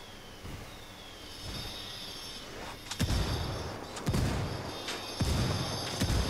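Rebel indirect fire strikes in Ghost Recon Wildlands, three heavy booming blasts spaced about a second apart after a low rumbling lead-in, distant and echoing over steady ambience.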